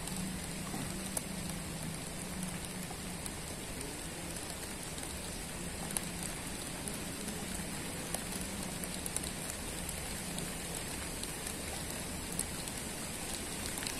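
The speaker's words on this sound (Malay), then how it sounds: "Makin lebat hujannya. Makin lebat terus." Heavy rain pouring steadily beside a river during a fishing trip, a dense, even hiss of drops with no voices, constant and close all the way through.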